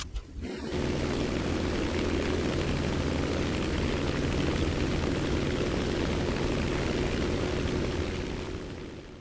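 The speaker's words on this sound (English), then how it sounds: "As I get airborne again and prepare for climbing" A video-game F4U-1A Corsair propeller fighter takes off, its engine a loud, steady, droning roar that holds throughout after a brief start, with no talk.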